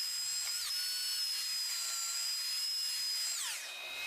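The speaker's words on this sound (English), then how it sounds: "I use my jigsaw to get the shape close and then finish it off with the belt sander." Belt sander shaping wooden supports for a TV tray, a steady high-pitched whine close by, with the pitch dropping briefly as the wood is pressed against the belt.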